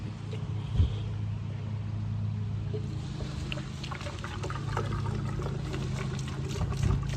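Lacquer thinner glugging from a gallon jug into a car's fuel tank, a steady low pouring rush with gurgles, no talking.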